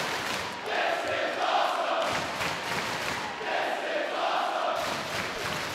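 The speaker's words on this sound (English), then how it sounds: "I wanted to give everybody a chance to hear this great crowd here in New York City." A large New York City wrestling crowd at a Ring of Honor event chants in loud, rhythmic waves, the roar rising and falling in repeated bursts that fill the arena.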